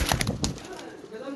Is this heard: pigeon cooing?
yes